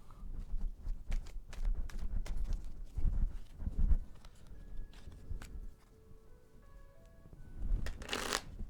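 Tarot cards are shuffled and drawn close by, with several quick riffling and slapping bursts of card noise spread across a few seconds and a longer rustling burst near the end.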